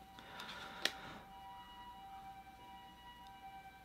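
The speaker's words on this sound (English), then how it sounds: "And there's the sirens." Faint sirens wail in the distance with sustained steady tones, and a sharp click sounds near the start.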